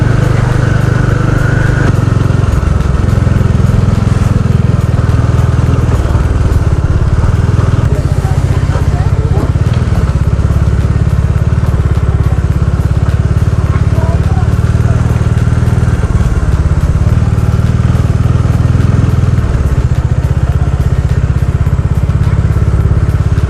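A motorcycle engine drones steadily and loudly during a ride near Pookode Lake and tea plantations in Wayanad, with constant low rumble and wind noise throughout and no break in the sound.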